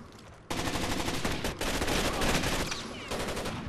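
Gunfire in the video game Rainbow Six Vegas 2, a loud continuous automatic burst of rapid, evenly spaced shots lasting several seconds with only a brief break.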